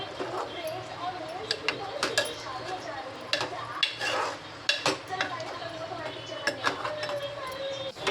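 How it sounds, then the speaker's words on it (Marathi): Cooked rice is stirred together with carrots and peas in a pot, giving repeated close clinks and scrapes of a spoon against metal over a faint sizzle, with a voice talking throughout. "सगळं आता ॲड करून घेऊया आपण, मस्त मिक्स करून घेऊया."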